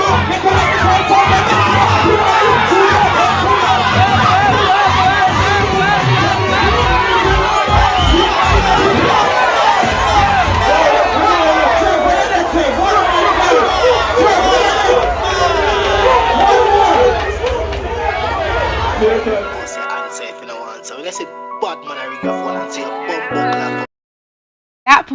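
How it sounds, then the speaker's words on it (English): A loud crowd roars, shouts and cheers throughout a live freestyle rap performance, dense and continuous for most of the stretch before thinning out and dropping to silence near the end. "the crowd loved it"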